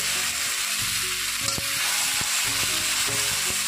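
Onion with turmeric and chili spices frying in mustard oil, a steady close sizzle with intermittent stirring scrapes and clinks against the pan, no talk.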